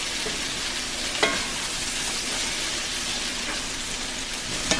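Breakfast meat and sauce sizzle steadily in a cast iron pan, a dense even crackle with a few sharper pops, close and continuous with no talking.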